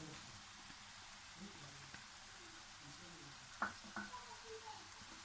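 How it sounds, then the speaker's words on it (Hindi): Fenugreek, peas and carrots fry in spices in a pan, a soft, steady sizzle at close range with a few brief clinks and scrapes of stirring near the end. "और ये गाजर डाल के इसको भूनूंगी"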